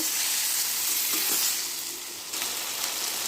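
Okra stir-fried in a pan with yogurt and spices, a loud continuous sizzle that dips briefly as the vegetables are tossed, with no talking.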